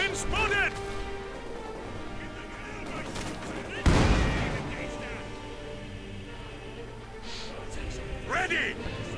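Gunfire from a Company of Heroes 2 1v1 match sounds under steady game commentary, with one loud blast near the middle and scattered lighter shots and battle noise around it.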